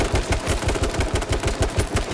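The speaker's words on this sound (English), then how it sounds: "I'm shooting at you." Rapid automatic gunfire in the battle royale game H1Z1, a loud close burst of evenly spaced shots repeating for about two seconds with no talking.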